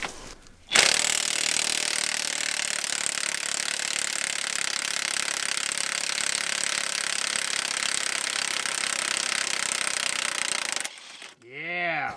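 An impact wrench removes wheel bolts on a turbo police car, sounding as one long, loud, continuous burst of rattling hammering that stops abruptly near the end.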